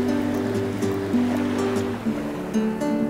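Waves wash continuously onto a Puget Sound beach, a steady loud surf roar that rises and falls slightly without pause, with no voices.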